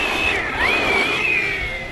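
HoBao Hyper SST RC car running on a 4S battery, a high electric whine rising and falling in pitch over a rough rolling rumble across two seconds, close and loud.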